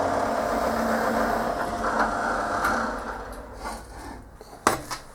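A reamer cuts through a 12mm hole in a metal support boss, making a continuous grinding, rasping drone that fades over a few seconds and ends in a couple of sharp metallic clunks.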